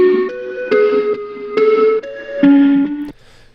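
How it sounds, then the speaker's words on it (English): A short looped musical phrase of sustained synth-like notes with a steady rhythmic pulse, played alone and fairly loud, ending abruptly. "let's look at what I've done to the loop to personalize it a bit more"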